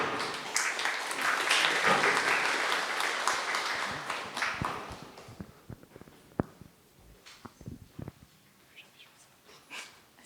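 Audience applause for round-table participants at a French café-debate event, a dense roll of clapping from many hands that runs strong for about five seconds, then thins into scattered individual claps that trail off.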